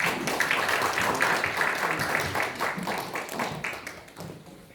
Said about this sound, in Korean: 강사님 나오실 때 박수로 환영합니다.